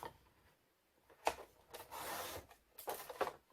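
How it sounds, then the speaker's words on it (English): A paper page for a mini album is cut on a trimmer in a few quiet, close, scraping swipes, soft and brief, with no talking. "I'm gonna cut this page at 6 1/4 again"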